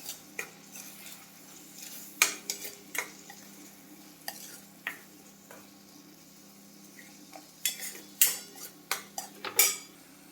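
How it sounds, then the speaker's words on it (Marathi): A coconut, ginger and garlic paste is fried in a pan. A soft sizzle sits under sharp, irregular clinks and scrapes of a spoon stirring against the metal, with no talking. "खोबरे आलं आणि लसूण ही तीन इंची एकत्र पेस्ट हे वाटण टाकायचं आणि छान परतून घ्यायचं"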